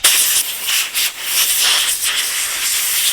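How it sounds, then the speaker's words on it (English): Compressed air from an air compressor blasts grease out of CV axle bearings on a BMW G30/F90, a loud close hissing rush in several uneven bursts with brief dips between, without any talking. "use your air compressor to blow it out"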